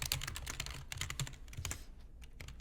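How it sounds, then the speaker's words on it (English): Fast, steady typing on a computer keyboard as a company name is entered, a dense run of crisp key clicks that slows slightly near the end, close and clear with no talking. "you can select the text tool again and add a text box, and you would just type in"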